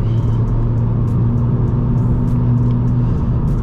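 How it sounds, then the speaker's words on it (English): Loud, steady drone of a stock Vauxhall Astra VXR's 2-litre turbo engine under way, a constant low rumble with a sustained tonal hum and no talking. "It's not a V8, it's not a V12, but it's a 2-litre turbo."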